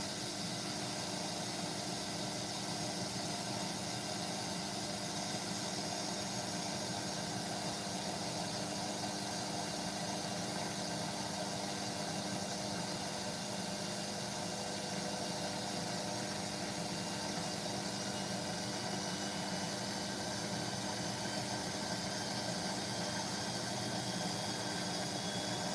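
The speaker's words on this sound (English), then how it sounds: "Motor sounds a bit rough." A Hotpoint washing machine motor runs rough, giving a continuous dense mechanical drone with steady vibration and hiss throughout, no talking.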